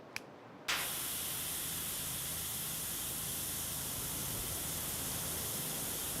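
Pressure washer spraying through a white nozzle in a video game, a sudden loud, steady hiss that bursts in after a brief quiet moment and holds unbroken to the end.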